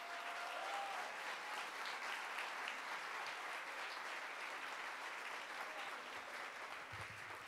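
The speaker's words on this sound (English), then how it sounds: "maybe they deserve a round of applause" An audience applauds at the rededication of the Public Theater in New York City, steady continuous clapping heard from a distance, fairly soft and even across the whole stretch.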